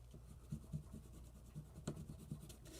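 Soft, irregular scratching strokes of a colored pencil on paper, close and quiet, with short bursts of rubbing and faint low background hum.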